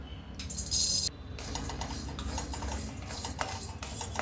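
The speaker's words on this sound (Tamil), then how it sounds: "இப்போ அடுத்து செகப்பரிசியை வறுத்துக்கலாங்க" Red rice dry-roasts in a pan with no oil, giving a close, continuous dry rustling and scraping as the grains are stirred and shuffled across the metal, with occasional sharper clinks.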